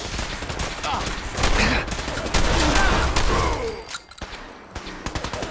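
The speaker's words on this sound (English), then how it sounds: "somebody has a freaking minigun over here" Minigun fire in the Fallout 4 video game during a fight with gunners and super mutants: loud, sustained rapid-fire bursts that roar continuously, swell midway, then drop off into scattered shots near the end.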